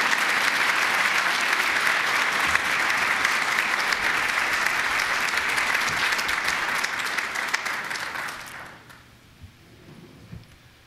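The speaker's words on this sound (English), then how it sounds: "Let's give him a round of applause." Loud, dense audience applause for the mayor of Niagara Falls at a waterfront project announcement, sustained for about eight seconds before tapering off to a quieter room with faint noise.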